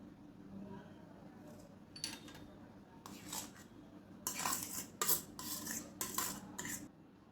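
A spoon scrapes and clinks against a bowl while spices and grated potato are stirred together, giving quiet, close strokes that become brisker and more rhythmic toward the end.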